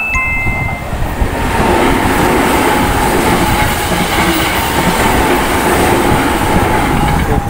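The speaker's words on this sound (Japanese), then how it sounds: "これ京都のね地下鉄が通過してきましたね。" A Kyoto subway Karasuma Line train rumbles past close by outdoors, a loud continuous roar of wheels on rails with a faint rattling clatter throughout.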